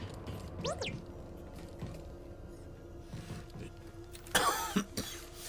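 A person with a cold coughs once, a brief hoarse burst late in the clip, heard over quiet background sounds from the Star Wars Jedi: Survivor video game.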